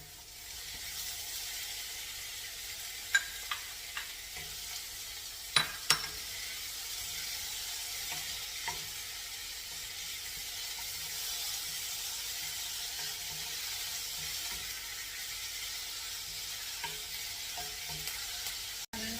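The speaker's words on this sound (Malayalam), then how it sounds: "നമുക്ക് ചോപ്പ് ചെയ്തിരിക്കുന്ന ടൊമാറ്റോയും കൂടി ഇട്ട് കൊടുക്കാം" Chopped tomatoes fry in a pan for mixed dal, a soft, even sizzle with a few sharp clicks of a spoon against the pan.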